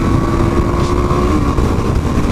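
A Suzuki DRZ400 dirt bike engine pulls hard and loud close by, a continuous rough throaty drone under acceleration with no talking.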